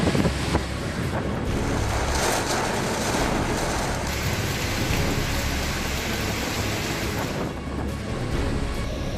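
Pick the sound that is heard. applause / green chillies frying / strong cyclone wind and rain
strong cyclone wind and rain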